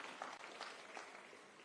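An audience claps through a faint, distant round of applause at a President Ruto rally in Machakos, a soft wash of applause with no clear break.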